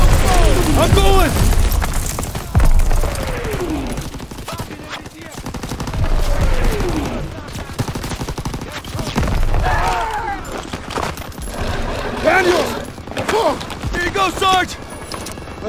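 Sustained covering gunfire in the World War II shooter Call of Duty: WWII: dense bursts of rifle and machine-gun fire with booming impacts, close and loud throughout, while soldiers shout over the battle.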